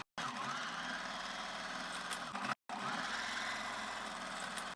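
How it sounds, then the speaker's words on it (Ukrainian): A sewing machine stitches a second seam on a garter belt, running as a steady close mechanical whir that stops briefly twice before resuming. "Прокладаю другу строчку."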